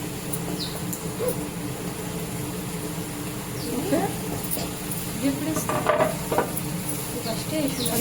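Tomatoes and leaves frying together in a pan give a dense, continuous sizzle with stirring scrapes and clinks, up close and fairly loud, with a voice talking over it at times.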